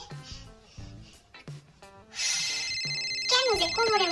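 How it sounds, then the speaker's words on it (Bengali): A phone rings loudly partway through, its electronic ringtone continuing steadily to the end after a brief stretch of voice sounds. "ফোন বাজে"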